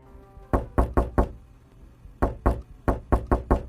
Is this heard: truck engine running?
no